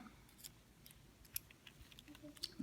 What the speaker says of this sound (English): grab a piece, middle 1/3 of the scissors.